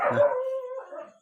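A dog howls in a single drawn-out, wavering cry, fairly close, starting loud and trailing off in a rural countryside setting, with no talk over it.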